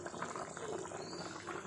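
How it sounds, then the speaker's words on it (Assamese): A pot of local chicken curry bubbles on the heat, a close, continuous simmering hiss and burble that stays even throughout, with no speech over it. "এয়া তৰকাৰী উতলি আছে।"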